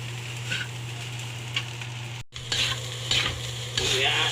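Fried rice with carrots and egg stir-fries in a hot pan, giving a loud, constant sizzle with scraping stirs and a brief cut in the sound partway through.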